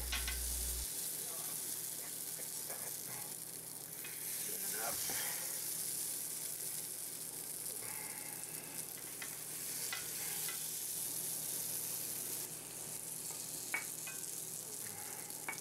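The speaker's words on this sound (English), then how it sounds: "one of the best parts of making cornbread is the sizzle" Cornbread batter sizzles and crackles steadily in a hot cast iron cornbread pan, a soft continuous frying hiss with occasional light scraping, no talking.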